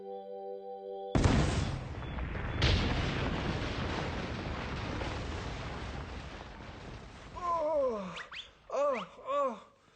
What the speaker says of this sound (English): Ready for the explosion?